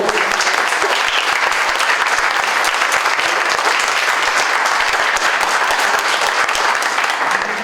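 An audience at a Mexican university social sciences event claps steadily and densely, a sustained, loud wave of applause that holds evenly throughout with no talk over it.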